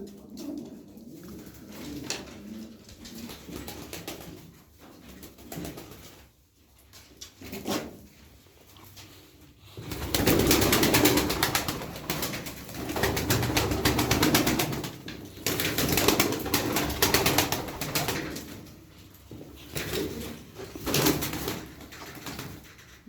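Tumbler pigeons in a coop give soft, steady cooing, later joined by loud bursts of wing flapping and rustling that come and go, with no voices.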